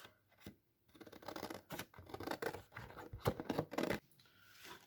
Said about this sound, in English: And then all you need to do is cut this one out.